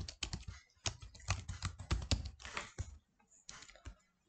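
Quick bursts of keystrokes on a computer keyboard while numbers are entered into a PowerPoint table, crisp clicks close by, then a short pause and a few final taps.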